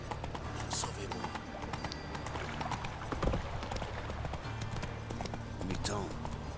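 In The Witcher 3: Wild Hunt, a horse's hooves clip-clop steadily as it trots and gallops, a continuous rhythmic beat under game ambience and music.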